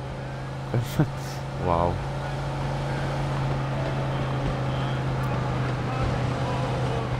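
Car driving in the video game Mafia 2, a steady engine drone with a low hum carrying through the whole stretch, and a man briefly exclaims near the start.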